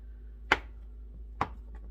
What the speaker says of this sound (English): I'm going to go ahead and finish cutting up all of my cheddar